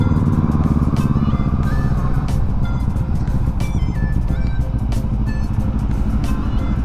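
Motorcycles passing on an expressway, giving a loud, continuous roar of engines and road traffic with no voices.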